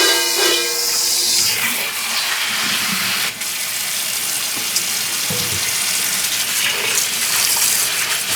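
Tap water gushes steadily into a sink while sandy parsley for tabbouleh is rinsed, a continuous loud splashing flow with small shifts as the greens are moved under the stream.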